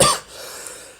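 A single short, close cough bursts out at the start and fades quickly into a quiet room tone.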